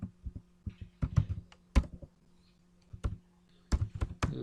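Quick bursts of typing on a computer keyboard in a spreadsheet, close and crisp clicks in clusters separated by short pauses, with a faint low hum underneath.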